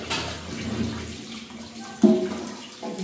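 Potatoes are rinsed under running tap water at a sink, a steady splashing flow with a brief louder slosh midway, close by and without talk.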